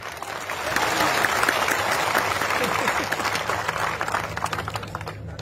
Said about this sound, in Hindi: अरे राहुल की तालियां।